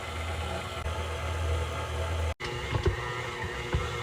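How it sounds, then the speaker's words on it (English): KitchenAid stand mixer kneading sourdough discard dough, a steady low motor hum with a faint rhythmic churn, broken by a brief cutout and a few soft knocks near the end. "So here's to using your KitchenAid mixer to do the work for you."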